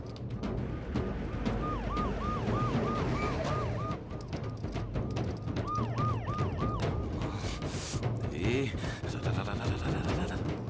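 Police car siren approaching, heard as repeated rising-falling wails in two bursts under a busy soundtrack with voices talking and clattering noise near the end.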